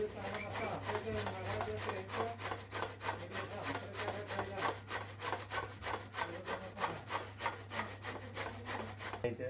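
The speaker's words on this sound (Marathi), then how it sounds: "तर आता मस्त मी किसून घेतो. या एकदम बारीक बारीक करून घेतो." Bottle gourd being finely grated by hand for a sweet halwa: a steady run of quick, rhythmic rasping strokes, close and fairly loud, over a constant low hum, with no talking.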